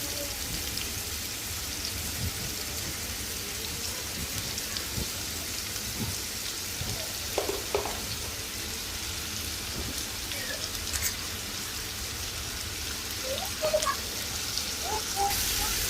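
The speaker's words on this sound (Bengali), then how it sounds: "তাওয়ার মধ্যে করব যাতে ভাজা ভাজা করা যায়" Bitter gourd with onion and green chili sizzles steadily on a tawa, a dense continuous crackle with small pops and faint clatter throughout.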